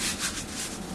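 A rhinoceros being brushed with a scratching brush: steady, close bristle rubbing strokes with soft rhythmic swells, continuous and alone.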